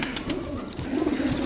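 A colorful pet pigeon coos nearby in low, throaty, rolling phrases that repeat over a light background hiss.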